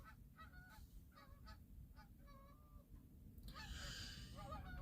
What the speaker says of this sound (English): Look at those Canadian geese right in front of us.